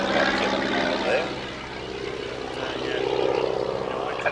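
A propeller aeroplane flies at an air show, a loud droning engine sweep that dips then builds again, with a commentator's voice talking over it throughout.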